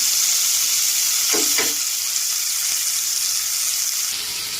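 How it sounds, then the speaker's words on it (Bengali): Chopped onions fry in hot oil until light brown, giving a steady close hiss, with a few brief stirring scrapes partway through. "পেঁয়াজগুলো একটু হালকা বাদামি কালার করে ভাজবো।"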